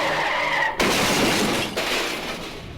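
Loud cartoon-drama car effect: a sustained tire skid gives way to a crashing, shattering impact, then a second burst of breaking debris, with no talking.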